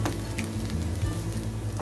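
Vatli dal, a soaked and ground lentil dish for the Ganpati Gauri festival, sizzles steadily in a pan while being stirred, a continuous close frying hiss with soft scraping and no voices.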